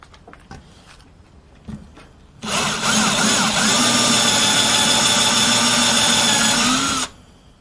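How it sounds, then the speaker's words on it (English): Countersinking holes in a router base plate with a power drill: a few light clicks and handling knocks, then a loud steady whirring run of about four and a half seconds that stops abruptly. "So what that means is that now we got to countersink a little more."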